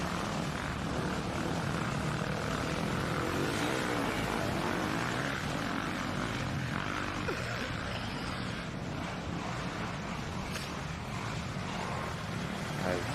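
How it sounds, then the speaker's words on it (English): A Fox FPV drone flies over a motocross track at the Unadilla GP, its propeller whine blending into a constant, dense roar of engine and crowd noise that never lets up. "Jumping on board once again with the Fox FPV drone."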